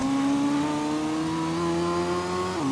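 A Dodge Viper engine in the Gran Turismo racing game holds a steady, loud, buzzy rev with a strong low drone, then drops briefly near the end as the pitch shifts, heard alone without voices.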